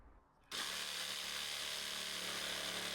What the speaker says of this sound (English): I've just got to be really careful here with the jigsaw because my fingers are sort of quite nearest to it